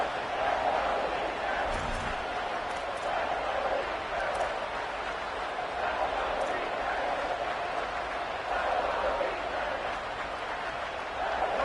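A stadium crowd in a football video game roars steadily for a big third-down play, a thick, continuous wall of cheering that stays at an even level under a commentator's talk.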